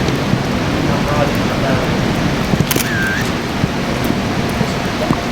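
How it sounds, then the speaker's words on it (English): Heavy rain pours steadily outdoors in a loud, dense wash that never lets up, with a few faint clicks and a brief soft tone partway through. "it's outside, so we're getting rained on again"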